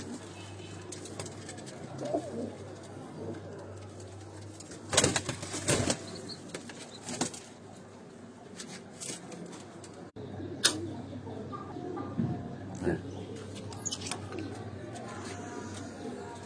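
Sialkoti pigeons in a cage coo softly at moderate distance, with occasional wing flaps and handling noises over a steady background hum.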